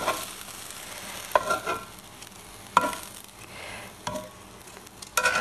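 Frozen green beans dropped straight from the freezer into a hot oiled pan, frying with a steady sizzle while being stirred, marked by a few sharp clacks of a utensil against the pan.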